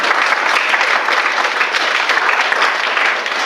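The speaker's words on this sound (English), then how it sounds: "Give yourselves a round of applause." Concert audience gives a sustained round of applause, a thick, continuous patter of many hands clapping at a steady loud level from start to finish, with no talking over it.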